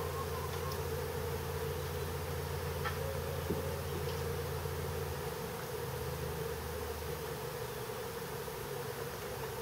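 A honey bee swarm streams into a bait hive after leaving a Warre hive whose queen could not fly, a steady close-up insect hum running the whole way with no talk.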